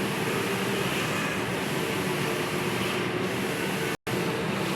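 Smart 6TF two-head sublimation printer running a head clean cycle, a steady even mechanical whir with pump and fan hiss held throughout, broken by one brief dropout near the end.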